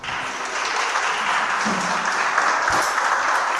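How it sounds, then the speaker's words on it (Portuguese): A church congregation applauds in a dense, continuous wash of clapping that fills the space, with a voice faintly audible beneath it. "Se coloque de pé e aplauda o Senhor."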